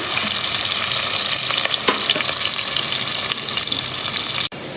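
Onions frying in oil until brown make a loud, dense, continuous sizzle close up, with faint scrapes of stirring inside it, before the hiss drops suddenly near the end.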